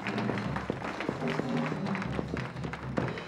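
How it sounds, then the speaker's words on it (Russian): Studio audience applauding on the Russian Lotto televised lottery draw, a steady dense patter of many hands at moderate level with music or tones running underneath. "аплодисменты ваших товарищей"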